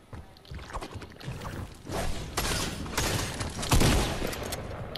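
Gunfire in a video game, bursts of rapid shots and blasts that build in loudness, with a heavy cluster near the end.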